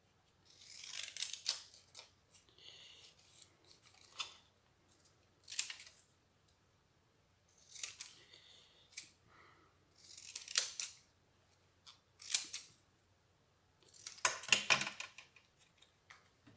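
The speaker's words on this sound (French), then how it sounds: "je vais prendre mon ciseau comme ça." Scissors snip paper for a handmade Christmas card in several separate bursts of short crisp cuts with quiet pauses between them, close and clear, with no talking.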